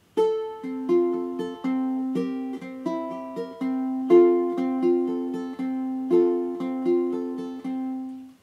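A ukulele is fingerpicked in a steady repeating pattern of plucked notes, clear and close, with no voices.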